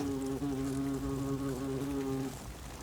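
European hornets swarm around their nest inside a barn, giving a steady, close, loud droning buzz with layered harmonic tones that holds for over two seconds before fading.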